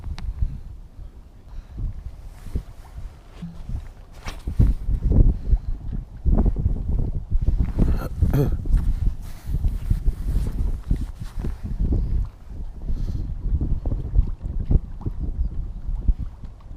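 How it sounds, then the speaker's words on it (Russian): Strong wind buffets the microphone during trout fishing in snow at a paid fishing pond, a steady low roar with gusty swells that build louder midway and persist throughout, with no voices heard. "Хотя бы ветер в спину."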